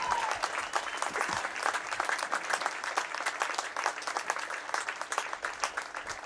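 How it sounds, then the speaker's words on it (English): Crowd applause for the Nixa Eagles baseball team at a Class 6 third-place game medal ceremony, a continuous patter of many hands clapping at moderate loudness, with individual claps standing out. "let's give a big round of applause for the Nixa Eagles, coached by Logan Hughes."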